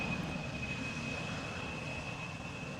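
An Embraer 175 jet airliner at Amsterdam Schiphol Airport gives a steady, distant engine roar with a thin high whine on top, faint and unbroken throughout.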